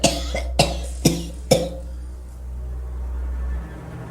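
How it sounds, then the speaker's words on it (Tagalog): A woman in a Tagalog radio drama coughs in four sharp, evenly spaced bursts, close and clear, then breathing settles into a quiet low hum. "Inihit ng ubo si Rebecca sa paghahabol ng hanging masasagap."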